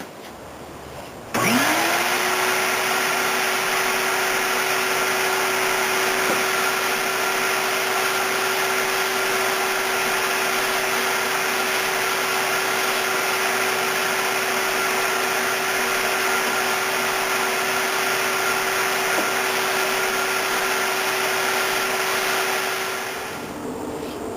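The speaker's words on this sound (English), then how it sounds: "I'm going to go ahead and give it a quick sand just to finish it off." A vacuum sander runs with a steady, continuous motor whine for nearly the whole stretch while giving a table's second finish coat a quick sanding, then eases off at the end.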